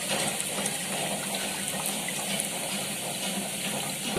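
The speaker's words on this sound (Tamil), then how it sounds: "இனிமேல் நம்ம தண்ணியை வடிச்சு எடுத்துக்கிடலாம்" Water drains from soaked lentils being prepared for vada in a continuous, even trickle and splash close by, with no talking over it.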